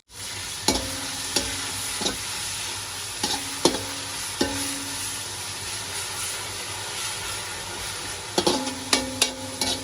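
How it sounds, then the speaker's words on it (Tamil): Onions stirred and frying with salt in a pan, a steady sizzle throughout, punctuated by periodic scraping knocks of the spoon against the pan. "வெங்காயம் இப்போ பொன்னிறமாக வதங்கி வந்துச்சு"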